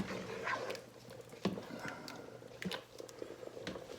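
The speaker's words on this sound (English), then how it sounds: "I think you can see it or hear it bubbling anyway." Thick stew bubbles in a pot with irregular soft pops and blips, close by and fairly quiet.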